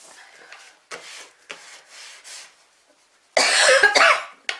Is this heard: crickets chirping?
no